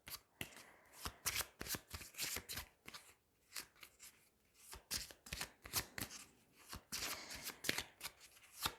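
Tarot cards being shuffled over and over in a quiet room, a run of sharp riffling bursts and soft slaps that come in an uneven rhythm, close and fairly loud, with no voices.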